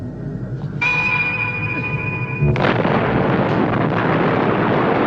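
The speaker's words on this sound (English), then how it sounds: "So we get an awesome fight between the Doctor and Bennett with the explosions." A tense tone sounds, then a sudden explosive boom erupts into a sustained roar of rumbling blasts during a Doctor Who fight scene, loud and close, with no speech.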